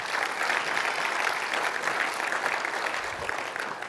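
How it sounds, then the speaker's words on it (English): Audience applause at a school district service academy night event, a full, steady clatter of many hands clapping in a hall, sustained and fairly loud with slight swells across the few seconds. "Y'all give Mary O'Connor a big round of applause"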